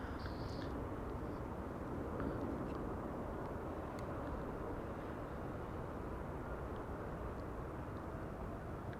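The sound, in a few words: airplanes arriving at Amsterdam Schiphol Airport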